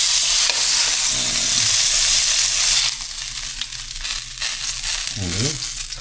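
Shrimp fry and are stirred in an oily pan, giving a loud sizzle over the first half that then drops to a quieter crackle, with spoon scrapes and a short voice near the end.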